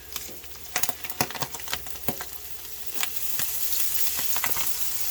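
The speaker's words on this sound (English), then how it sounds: "But we want to crisp that bacon. We want to crisp that corned beef hash." Bacon and corned beef hash crisp in a pan for a breakfast burrito, with crackling pops and spits over a soft sizzle that grows into a steadier, fuller fry toward the end.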